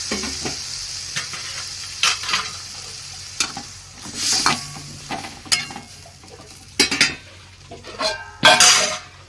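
A small amount of water goes into tengra fish curry sizzling in a pan. Frying hiss and stirring run throughout, broken by scattered clinks of a utensil against the pan and a few louder bursts of sizzle.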